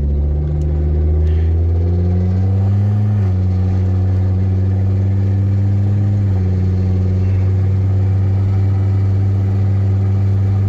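Hummer H3 engine with no muffler accelerating through the gears, a loud, raw droning rumble that steps up in pitch with each shift, close and continuous with no talking.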